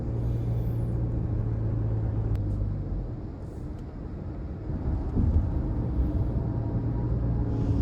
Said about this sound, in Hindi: बाकी आप ट्रैफिक का फ्लो तो आपके सामने है